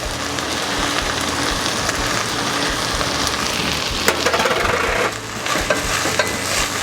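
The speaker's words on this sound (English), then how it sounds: "Now I'm going to put in the garlic." Garlic sizzles in a pan among softened, translucent onions and vegetables for a soup of collard greens and white beans, a continuous close crackling fry with occasional stirring scrapes.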